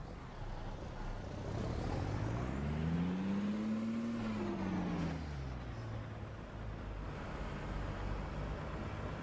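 A Peterbilt 389 hauling long triple trailers in American Truck Simulator drones with a steady, loud engine note that swells and falls in pitch as it passes, with a faint high whine above, and no voices.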